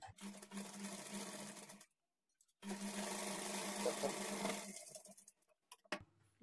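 A sewing machine stitches a blouse lining to the main fabric in two runs separated by a short pause, a close, steady, rapid whirring rattle with no talk over it.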